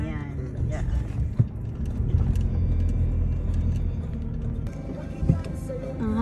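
A car drives along slowly while looking for a parking spot outside a Korean barbecue restaurant, its steady low engine and road rumble filling the cabin, with a couple of brief bumps.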